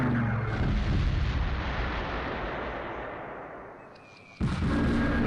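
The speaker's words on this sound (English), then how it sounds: "they are airstriking everybody" Continuous rumbling artillery barrages and explosions from an airstrike in the Close Combat: Panthers in the Fog wargame, loud and dense, fading slightly before a sharp renewed blast near the end.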